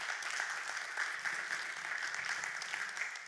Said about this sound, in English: I really would like to have one more big applause for the speakers.